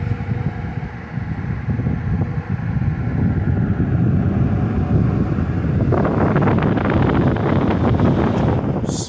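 A dumpster-salvaged box fan running at its turbo speed, a loud steady whoosh of air that thickens into a brighter, stronger rush partway through, continuous and close.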